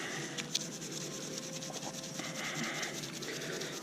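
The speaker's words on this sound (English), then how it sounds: "I take the steel wool and just scrub it a little bit." Steel wool scrubs metal drum hardware in a steady, close rubbing and rasping sound of repeated strokes, with a brief sharp scrape early on.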